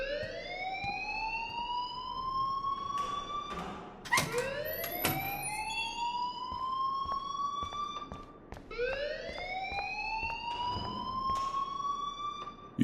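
A loud alarm in the video game Life is Strange wails in repeated rising sweeps, each tone climbing then holding before restarting, with a few clanks and thuds between cycles.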